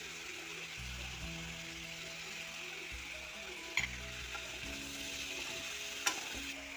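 Soya chunks with turmeric and salt sizzle steadily in a pan, a continuous close frying hiss with a few brief clinks of stirring.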